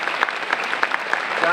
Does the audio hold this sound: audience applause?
yes